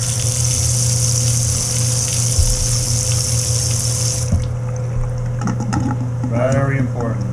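A floor drain in an old beach house gurgles and sucks for air, a steady rushing water flow under a low hum that cuts off midway, followed by bubbling, gulping gurgles near the end.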